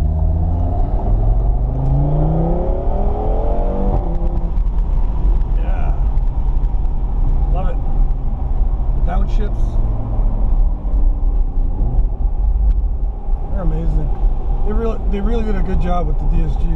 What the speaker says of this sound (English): I just want you guys to hear the acoustics of the exhaust